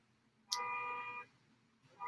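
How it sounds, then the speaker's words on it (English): An electronic alarm sounds faintly in the background, one harmonic tone holding for about three-quarters of a second before stopping, with a second tone just beginning at the end. "Somebody's alarm is going off."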